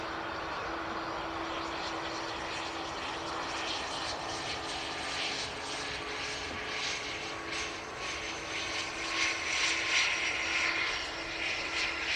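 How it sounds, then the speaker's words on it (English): A Cessna Citation Mustang business jet passes at Dublin Airport on a grey, gloomy day, a faint, steady engine hiss and whine with a low hum, quiet and distant throughout. "Citation Mustang."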